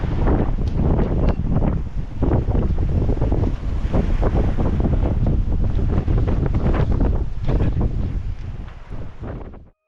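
Heavy wind of 16 to 22 knots buffets the microphone in loud, continuous roaring gusts on a sailboat, with rushing water and waves beneath, no voices present.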